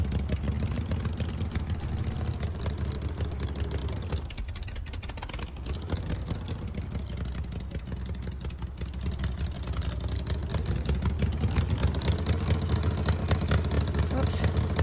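A motorcycle engine runs steadily in the video game DayZ, a continuous mid-pitched drone that holds for the whole stretch with slight swells in revs. Faint talk sits underneath.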